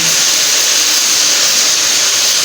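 Green chilies and whole ginger frying in hot oil for dhaba-style chana dal, a loud, steady sizzle that hisses evenly throughout, with no talking.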